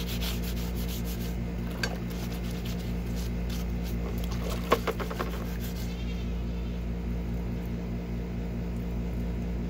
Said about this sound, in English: Let me get something to scrub that with.